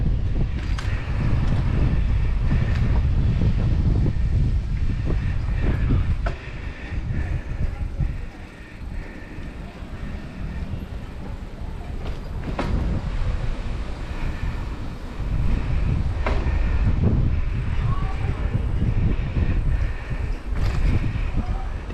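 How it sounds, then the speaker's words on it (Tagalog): Strong headwind buffets the microphone in loud, gusting roars while cycling, with a voice speaking briefly over the rush. "Oh, lakas ang hangin, sumasalubong."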